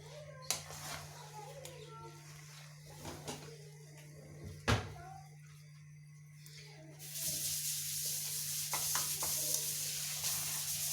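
Vegetables, onion and spaghetti sauce ingredients stirred in a pan with a steady hum underneath, scattered clatters and knocks of a utensil against the pan, then a louder continuous sizzle taking over for the last few seconds.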